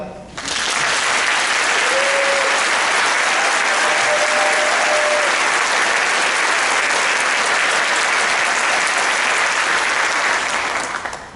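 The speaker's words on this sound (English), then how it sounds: "Thank you for being here, and you can applaud." A gubernatorial debate audience applauds the candidates, loud sustained clapping that starts abruptly and rolls on evenly for about ten seconds before fading, with a brief voice underneath near the start.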